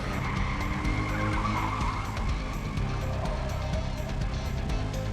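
Four-cylinder pure stock race car skidding and spinning out during a heat race at a short track, a loud continuous roar of engine and tire scrub with no clear breaks, crowd and track noise mixed in.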